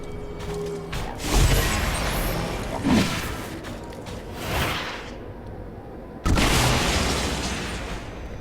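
A psionic spirit bomb going off in XCOM 2, heavy booms and crashing bursts with whooshing swells, several loud surges separated by rumbling lulls, the last blast sudden and strong.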